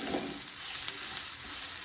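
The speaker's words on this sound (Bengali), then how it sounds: "এই যে আমরা ভেজে নিচ্ছি" Onions fry in a pan, making a continuous close hissing sizzle at a steady level throughout the short stretch, with no talking.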